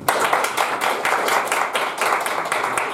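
Live comedy-show audience clapping steadily throughout, a dense, sustained round of applause from many hands in a room with no voices over it.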